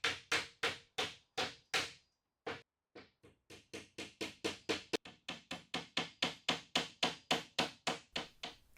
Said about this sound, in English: It needs tapping down into place and then I can get some wedges in exactly the same as before.